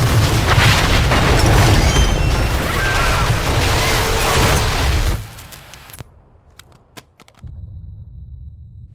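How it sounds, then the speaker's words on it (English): A massive explosion in a residential neighborhood in a Marvel Ultimate Alliance 2 cutscene: a loud sustained roaring blast and rumble that cuts off abruptly, followed by a few sharp crackling pops and quieter debris. "indicate a massive explosion in a residential neighborhood"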